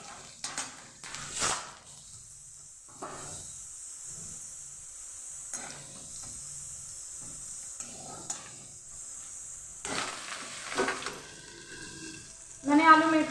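Potato and fenugreek (aloo methi) frying in a hot tempering in a pan, with a steady soft sizzle, stirring scrapes, and pot and utensil clatter nearby, louder clanks near the end.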